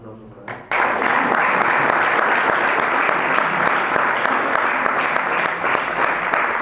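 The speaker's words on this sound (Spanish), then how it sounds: "Un aplauso para él." Audience applause for a professor at the end of a lecture on the Franco dictatorship in the Canary Islands, dense steady clapping from a roomful of people starting abruptly and continuing loudly throughout.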